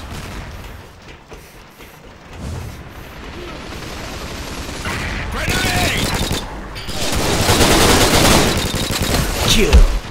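Gunfire in the online shooter Combat Arms: Line of Sight comes as rapid bursts and louder booms that grow heavier toward the end, mixed with a player talking excitedly.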